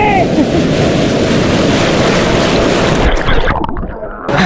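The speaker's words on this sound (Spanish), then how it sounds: "Todo el mundo está salpicando agua con sal." Ocean surf on a summer beach in Chile's Fourth Region, a steady loud roar of waves breaking and splashing salt water with wind buffeting the microphone, easing off briefly near the end.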